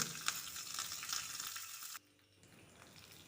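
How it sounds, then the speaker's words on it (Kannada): Curry leaves sizzling in hot tempering oil for rasam, a bright crackling hiss close by that cuts off abruptly partway, leaving a faint quiet background. "ಒಗ್ಗರಣೆ ಸಿಡಿದಾಗ"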